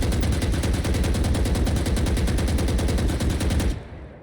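Automatic gunfire in a video game as the shoot button is held down: a loud, rapid, unbroken burst of shots that runs for several seconds, then cuts off abruptly.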